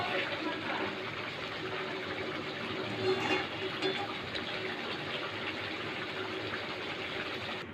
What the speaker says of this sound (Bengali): দিয়ে দিচ্ছি পরিমাণ মতন জল।